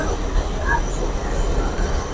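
A passenger train rolls along the rails with a steady, close rumble and faint wheel squeal, heard from on board with a hint of voices in the background.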